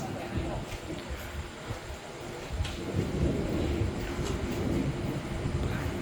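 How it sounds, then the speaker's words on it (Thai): Thunder rumbles near a village during a storm, a continuous low, heavy roll with some louder swells, steady throughout and fairly close. "ได้ยินไหมครับ เสียงฟ้าร้องนะครับ"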